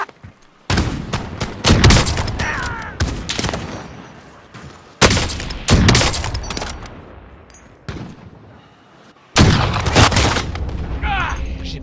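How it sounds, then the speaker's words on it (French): Loud bursts of gunfire from Call of Duty: Modern Warfare come in three separate volleys, each a rapid close fusillade that slowly fades away. "J'essuie des tirs."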